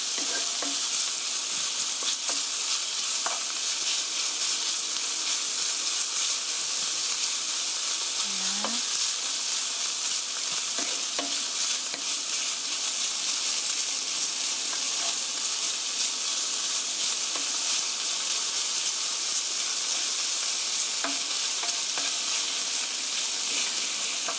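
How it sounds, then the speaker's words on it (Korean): Meat is stir-fried in a pan for curry rice, a continuous sizzle with occasional scrapes and clicks of a utensil against the pan, no voices. "고기가 코팅이 되게 하얗게 될 때까지 볶아주세요."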